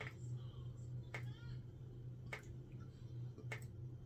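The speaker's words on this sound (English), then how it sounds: "I don't know if you can hear this, listen. That dripping." Water from an overflowing upstairs sink drips through a ceiling indoors, with three sharp, evenly spaced drips over a constant low hum.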